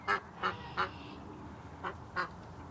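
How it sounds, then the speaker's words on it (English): A Canada goose honks near a backyard where ducks are kept, giving five short, loud calls: three in quick succession, then a pause, then two more, over a quiet outdoor background. "Canada goose is sneaking into the yard, guys."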